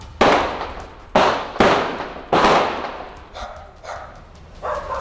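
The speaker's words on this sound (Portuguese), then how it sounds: "Mais tiros!" Gunfire during a police shootout with an armed gang member in Brazil's interior: four sharp, loud bangs in close succession, each trailing off in echo, followed by several fainter, more distant shots.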